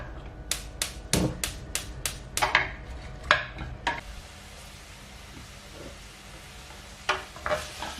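Chopped onion and garlic with salt sautéing in a pan, a soft steady sizzle broken by a quick run of sharp utensil taps and scrapes against the pan, then quieter frying with a couple of late clinks.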